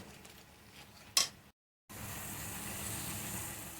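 Spice paste frying in a pan for an aloo, jhinge and soybean curry gives a steady, moderately loud sizzle, broken by one sharp clatter and a brief cut to silence before the hiss resumes evenly.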